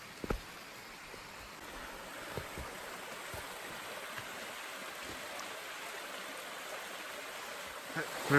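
Steady rushing water roars continuously from the Momiji Falls waterfall in a mountain setting in northern Okayama Prefecture, a broad wash of falling water with a few faint knocks and bumps near the microphone.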